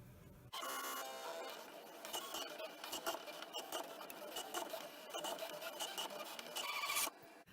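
ScanNCut cutting machine slicing self adhesive vinyl, a faint, close mechanical whirring and scraping that runs for about six and a half seconds with stepping motor pulses, no talk.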